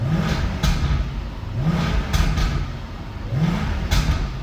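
A 2017 Jaguar F-Type R engine revs to about 3,000 rpm and falls back three times in a steady rhythm, each rise ending in a sharp exhaust crackle, close by.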